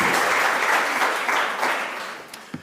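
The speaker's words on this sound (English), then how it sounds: "let's welcome him on this platform with a wonderful round of applause" An audience at a talk on under-utilised crops applauds a speaker onto the platform, a steady wash of hand claps that gradually thins and fades toward the end, with a single louder clap near the close.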